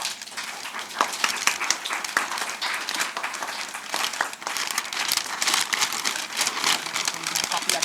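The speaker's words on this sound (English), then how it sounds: "I would like all three of you to kindly unwrap the book." Plastic packaging crinkles and rustles continuously as a book is unwrapped, likely by several panelists at a discussion event, with faint voices in the background.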